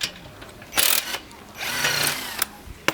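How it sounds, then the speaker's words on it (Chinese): A cordless electric drill backs out the axle screws on a worn bicycle drum brake, with two loud whirring bursts, the second longer, separated by short clicks and quiet handling noise. "用电动手电钻把两侧的轴螺丝给拆掉"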